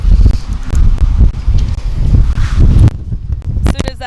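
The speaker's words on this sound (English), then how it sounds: "As soon as that gust comes up, the drop happens." Wind gusts at an outdoor softball game buffet the microphone, producing heavy, low rumbling roar that swells and fades for several seconds before easing near the end.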